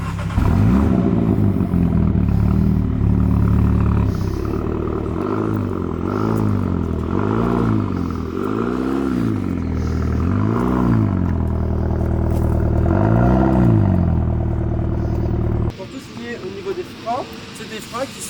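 A Mini GP car engine revs repeatedly through a throaty factory exhaust, the pitch rising and falling in rhythmic swells, loud and close, before cutting to quieter background noise.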